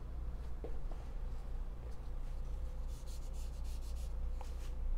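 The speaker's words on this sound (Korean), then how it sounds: "면봉으로 이렇게 다듬어 주고" A cotton swab rubs and blends graphite on paper in a pencil portrait of a mouth, a faint, soft scratchy stroking in short repeated passes over a low background hum.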